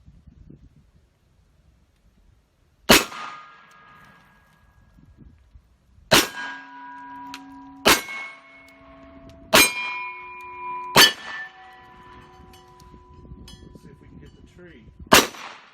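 A Smith & Wesson M&P 2.0 pistol fires six sharp shots at a shooting range, spaced a second or two apart, each followed by a brief metallic ringing; quiet rustling fills the gaps between shots.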